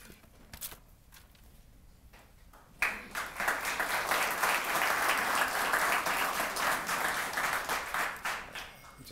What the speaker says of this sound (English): I think that applause was for you